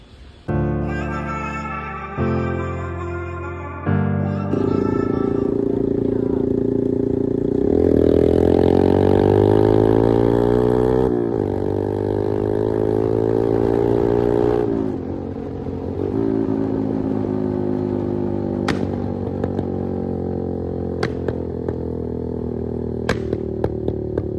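A Yamaha FZ160 motorcycle with a modified stock exhaust revs repeatedly, its engine note climbing and falling through loud throttle blips before settling into a rumbling idle with small ticks.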